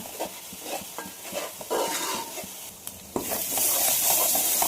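Small fish frying in a pan of hot oil while being prepared for a Telugu fish curry, giving a steady crackling sizzle with scrapes of stirring, growing louder and denser toward the end, with no talking.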